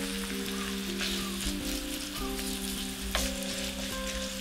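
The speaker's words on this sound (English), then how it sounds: "now sizzling, so I will add my ground pork" Ground pork sizzles steadily in a hot pan for a Korean soft tofu stew, a close, continuous frying crackle with occasional stirring scrapes and no voices.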